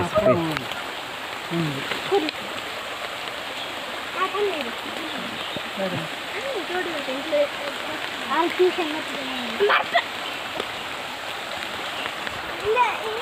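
A swollen stream rushing during monsoon rain, a dense, continuous wash of flowing water close by, with a voice talking intermittently over it.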